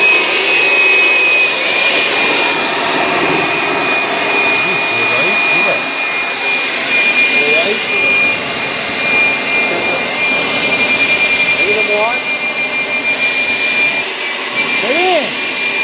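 Electric superchargers fitted to a Peugeot 206 whine loudly and steadily as a constant high-pitched electric blower drone, with someone talking over the noise.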